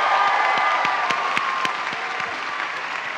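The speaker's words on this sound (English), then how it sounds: "Let's give another round of applause." Sustained applause from a crowd at the National Cherry Blossom Festival opening ceremony, dense steady clapping that continues evenly throughout and fades slightly toward the end.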